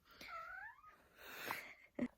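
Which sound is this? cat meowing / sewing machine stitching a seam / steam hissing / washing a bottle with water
cat meowing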